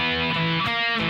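Distorted electric guitar plays one two-bar phrase of the Velvet Revolver song Sucker Train Blues, loud and dense with harmonics, with chords changing partway through and no talking.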